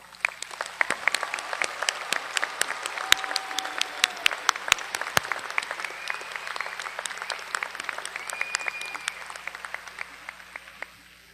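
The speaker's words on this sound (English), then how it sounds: "Would you please join me in thanking them with a round of applause?" Scattered hand claps from an audience at a commencement ceremony, fairly faint and sparse, with faint voices and whoops in the background.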